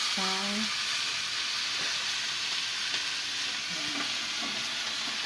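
Chicken for adobo sautés in a hot pan with a continuous loud sizzle and frying crackle, a few faint clinks of a utensil against the pan breaking through.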